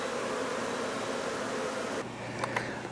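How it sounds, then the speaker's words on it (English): A dense swarm of honeybees buzzes steadily around comb frames taken out of a water meter box, a loud continuous hum that drops away abruptly partway, leaving a fainter tone and a few knocks. "then I can focus on these bees"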